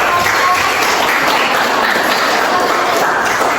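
A classroom audience of students applauds: steady, dense clapping from many hands, loud and close, sustained evenly throughout without pause.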